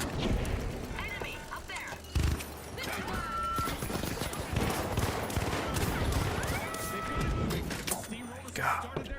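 Video game gunfire, dense bursts and sharp shots ringing out through the whole stretch, loud and near, with a voice speaking briefly over the firing.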